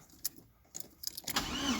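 A VW Golf Mk1 with a carburetor starts up on choke after a few clicks and cranking sounds, then settles into a steady, fairly close engine running for the final half second.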